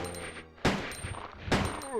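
Two sharp handgun shots from the PS1 survival horror game Resident Evil 2, fired about a second apart, each a loud broadband crack with a short decay over quiet game ambience.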